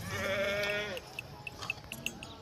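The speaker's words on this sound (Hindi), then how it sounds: "तो ये देखिए माशाल्लाह ये बकरी है।" A goat on a goat farm lets out a loud, drawn-out bleat close by, followed by a scatter of short clicks and faint rustling after it stops.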